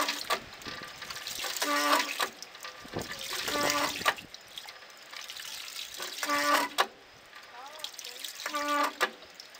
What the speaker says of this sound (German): Wenn ich pumpe, kommt da echt Wasser raus.